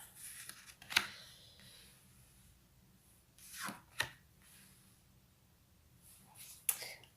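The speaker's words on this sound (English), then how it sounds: "Another couple of shuffles." Tarot cards being shuffled by hand in a quiet room, giving a few short riffling and snapping bursts separated by pauses, soft and close.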